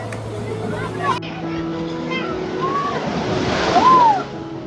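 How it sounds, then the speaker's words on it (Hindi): Ocean surf rolls in at Calangute Beach in Goa as a steady broadband wash that swells toward the end. Beachgoers' voices sit faintly underneath. "ये लहरों का शोर, ये लोगों की मस्ती"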